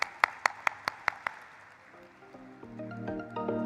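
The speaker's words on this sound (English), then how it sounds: "Can we have a huge round of applause for sir" Rhythmic claps at an IPO listing ceremony welcoming a managing director: six or seven evenly spaced, sharp claps from a small group, followed by soft musical tones rising underneath.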